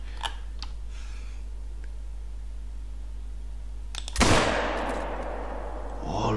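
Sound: rifle shot in hunting video game

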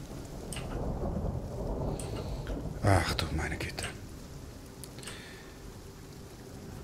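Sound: rain and thunder in Abtei des Reiters video game

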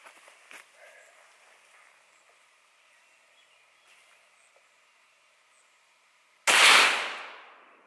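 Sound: gunshot from Remington UMC 115 grain hollow point

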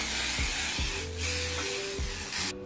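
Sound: hairspray being sprayed

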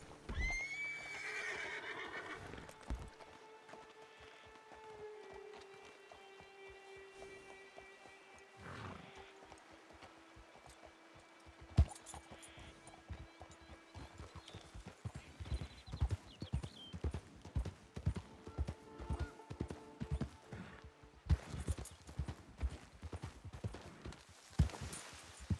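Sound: horse galloping and neighing in a video game

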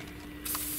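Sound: hair spray being sprayed

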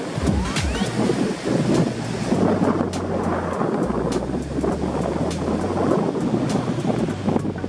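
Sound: strong wind on the camera microphone at the sea

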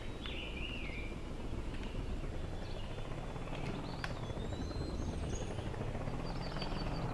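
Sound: coaxial rotor helicopter blades in Homebrew Vehicle Sandbox video game

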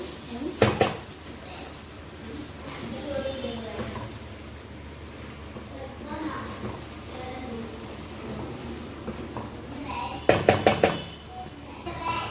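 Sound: mixing vegetables for pulao in a pan

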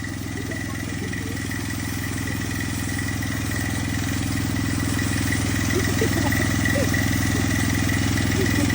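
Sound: petrol engine water pump running

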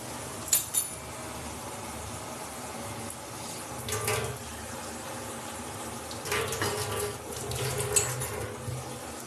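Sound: water poured into a bowl from the tap

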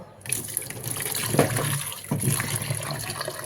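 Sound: grapes being washed under running water

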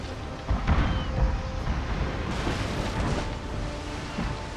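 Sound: warship cannons firing in Total War: Napoleon sea battle, video game

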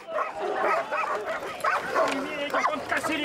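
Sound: police dogs barking

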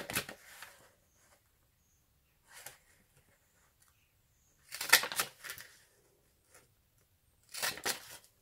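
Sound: border paper punch punching paper

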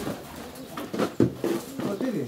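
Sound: pigeons cooing

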